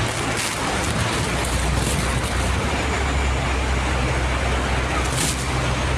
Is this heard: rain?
yes